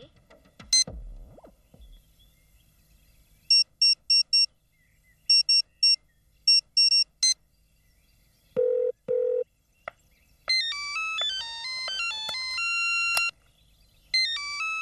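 Electronic office phone dialing tones beep in short bursts, followed by a sustained low tone and then a melodic ringtone-like sequence of pitched beeps.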